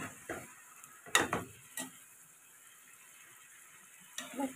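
Cauliflower, shrimp and garlic are stir-fried in a wok with a splash of water, giving a few faint, sparse spatula scrapes against the pan amid near-quiet.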